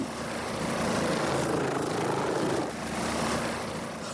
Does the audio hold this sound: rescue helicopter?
yes